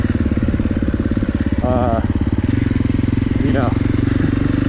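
A KTM 350 SX-F dirt bike engine runs under a rider's continuous close-up talk, a steady throaty mid-pitched drone that swells briefly in a couple of quick revs.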